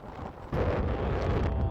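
Very strong wind blasting across open mountain terrain in Sarek National Park, Sweden, during a ski trek, a close, steady roar against the microphone that swells louder partway through and stays rough and gusty.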